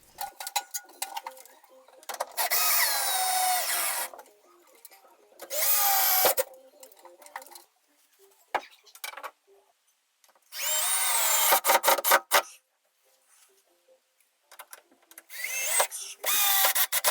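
A power drill drives screws into closet wall studs and hollow wall anchors in several loud, close whirring bursts of a second or two each, separated by quiet pauses and faint handling clicks.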